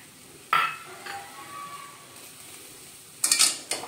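Spoon scraping and stirring vada pav potato filling in a pan, two sharp metallic scrapes with a faint sizzle between them, close and quiet, no talk.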